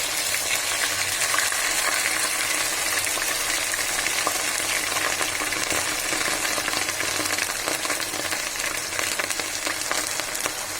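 Garlic paste sizzles in mustard oil for a sweet, sour and spicy mango pickle. A dense, steady, loud frying crackle runs throughout with no voices.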